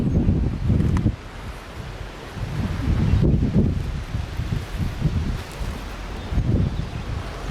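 Strong wind gusts across an open hill at L'Anse, roaring and buffeting the microphone in heavy low rumbling surges that rise and fall throughout, with no voices.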